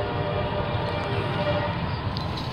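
A CSX freight train rolls past close by, a steady, loud broadband rumble of wheels and railcars filling the whole stretch without a break.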